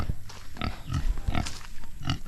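Free-range pigs on a farm in the rainy season, muddy from wallowing, grunt and oink in short close bursts, several overlapping snorts spread unevenly over a couple of seconds.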